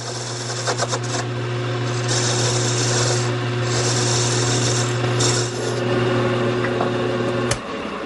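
A parting tool cuts slowly into wood spinning on a lathe, giving a steady scraping rasp over the motor's constant hum, with the cut ending abruptly near the close.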